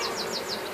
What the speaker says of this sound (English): all the bees are tending to it, keeping the place clean